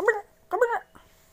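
A dog whimpering and yipping up close in two short, high-pitched bursts separated by a brief pause, followed by a softer trailing whine.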